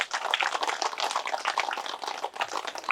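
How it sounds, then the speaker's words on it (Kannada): A crowd applauds a swamiji at a pyramid king chamber opening ceremony in Somusamudra, Ballari, with dense, steady clapping that holds at an even level throughout. "ಆ ಸ್ವಾಮೀಜಿಗೆ ಒಂದ್ಸರಿ ಜೋರಾಗಿ ಚಪ್ಪಾಳೆ"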